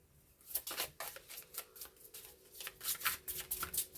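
A non-English deck of playing cards being shuffled, giving repeated crisp riffling bursts in a steady rhythm, close and fairly quiet, with no voices.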